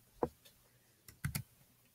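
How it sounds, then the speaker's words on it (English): Delete key tapped on a computer keyboard, a few quiet isolated clicks in a hushed room. "hit the delete key on your keyboard"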